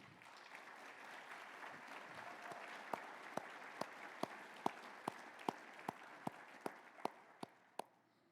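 Audience at a keynote event applauding as speaker Tom Belt comes to the stage; soft, diffuse clapping builds, then a single person's louder, evenly spaced claps stand out near the front.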